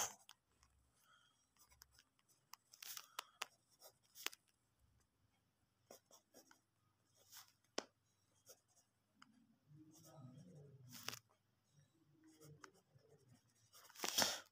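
Pen writing on paper while working a class 7 maths exercise, a run of soft scratchy strokes and taps in short bursts, close and quiet, with faint speech in places.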